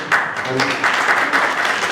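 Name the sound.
audience applause at engineering school event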